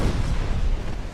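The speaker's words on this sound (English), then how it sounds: "Full broadsides, baby." Naval broadside gunfire in the Ultimate Admiral: Dreadnoughts video game, a loud continuous rumbling roar of heavy guns, dense and booming with no clear gaps.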